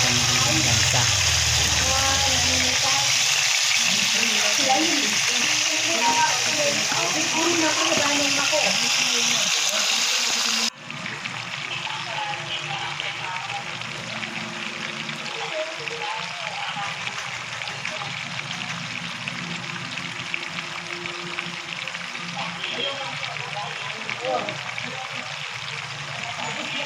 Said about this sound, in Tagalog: Ayan yung isda natin. Ipiprito muna natin siya.